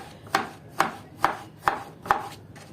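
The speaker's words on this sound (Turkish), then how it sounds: "Bu şekilde doğrayıp tuzlu suya gönderiyorum." Five crisp knife chops on a cutting board, evenly spaced about half a second apart, close and clear with no talking.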